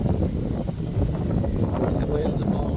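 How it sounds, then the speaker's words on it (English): Wind blows past a microphone outdoors near a budget greenhouse and garden, making a low, steady rumble and gusty buffeting under a person speaking close by. "The wind's blowing."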